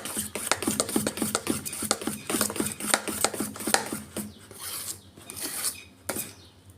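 A spoon stirs batter for Jain South Indian-style rasam vada in quick, rhythmic scraping strokes, close and steady, before it slows to a few scattered scrapes.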